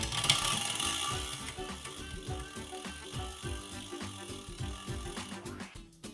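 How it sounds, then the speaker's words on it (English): Crank of a carbon road bike with a Shimano Di2 groupset turns, and a rhythmic rattling drivetrain whir repeats with each pedal stroke while the gears shift, loud and close throughout. "Rotate the crank arm."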